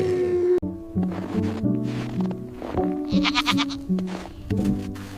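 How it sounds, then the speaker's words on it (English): A mountain goat bleats loudly and up close in a series of wavering, tonal calls that come one after another over about five seconds, heard alone with no talk. "Tiny frosted Arctic mountain goat."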